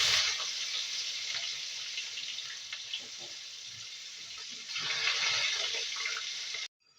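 Onion-garlic paste fries in a hot pan for a chicken curry, giving a steady broad sizzle that holds for several seconds, swells briefly toward the end, then cuts off abruptly.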